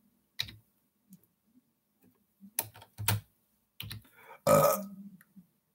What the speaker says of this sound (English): Oh, sorry for that burp.